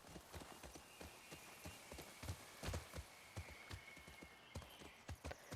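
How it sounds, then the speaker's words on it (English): Horse hooves clip-clop steadily in The Last of Us Part II, a quick even rhythm of close, soft strikes running the whole way through, ridden through an overgrown city outskirt, with no voices over it. "Can I get off the horse?"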